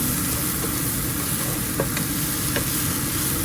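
Garlic frying in a pan for sorak curry, a steady close sizzle with faint scrapes and taps as it is stirred and tossed.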